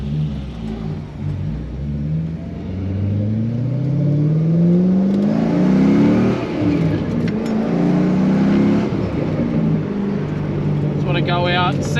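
A car laps a race track with snow still along its edges, its engine heard loudly from inside the cabin as it revs and climbs in pitch through the gears, easing and pulling again over a steady road roar.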